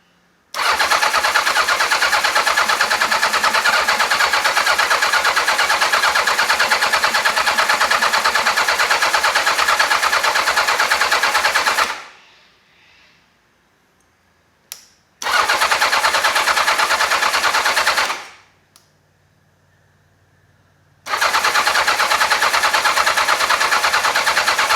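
An old Yamaha XJ650 motorcycle engine cranks over on the starter after a jump start, sounding tight and failing to catch, in three long loud grinding bursts separated by short pauses.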